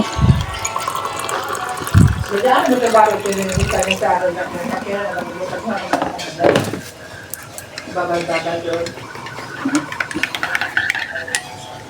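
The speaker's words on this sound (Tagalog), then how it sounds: "Ayan, bubuhusan na natin ng mainit na tubig." Hot water is poured over coffee for a Sunday breakfast served with suman, a liquid splash and fill heard alongside some spoon clinks, with a person talking over it.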